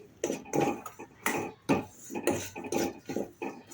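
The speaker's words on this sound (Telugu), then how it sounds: "ఇందులో 1 కప్పు రవ్వను వేసుకొని దీన్ని బాగా వేయించుకొని" Semolina (rava) roasting with peanuts in a pan, a spoon scraping and tapping through the dry grains in quick irregular strokes, close and crisp with no talk.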